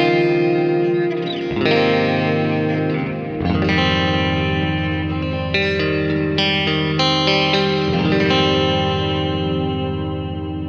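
Jackson SL7 seven-string electric guitar in middle position, neck single coil with the bridge inner coil, strums heavy distorted chords with chorus and echo, several sustained hits and ringing notes, loud and close with no talking.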